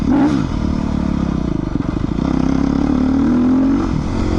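Beta 390 RR-S dual sport motorcycle engine running loud and close during a ride, a continuous throaty drone with shifting revs and wind buffeting.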